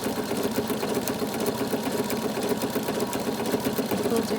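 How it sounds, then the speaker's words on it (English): Sewing machine stitching through a quilt to secure sunflower applique while quilting, a steady fast rapid-fire needle hum running loud and continuous throughout. "Get your quilting done at the same time as you get your applique secured."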